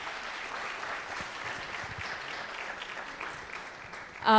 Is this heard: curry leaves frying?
no